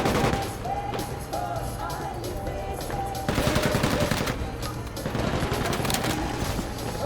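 Gunfire in the Combat Champions shooter game, with a dense, continuous stream of rapid shots and bursts, loud and close, rising into heavier fire partway through.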